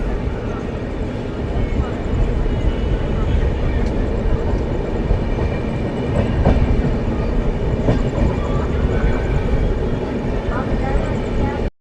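A long-distance passenger train running on rails from Amritsar toward Bandra Terminus, Mumbai, rounds a curve near New Jagadhri station with a steady, loud rumble and clatter of wagons that never lets up.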